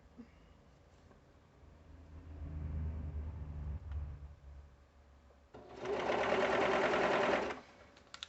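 Serger stitching the lining of a pullover hood, a dense, steady mechanical whir in one loud burst of about two seconds after a stretch of low room rumble and small handling noises.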